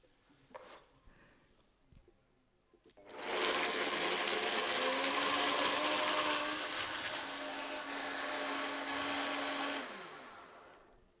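Countertop blender blending nuts with a little water into a vegan condiment: after a few faint clicks it starts up and runs as a loud steady whirring roar for several seconds before easing off.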